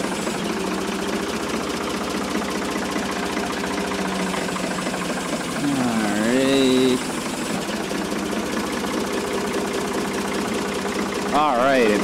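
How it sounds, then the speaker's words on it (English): Engine of a lift hoisting a giant pumpkin at a weigh-off, a steady loud drone with a rising whine as the load goes up, alongside other mechanical tones. "So I'm going to tell him to start the engine and lift it up."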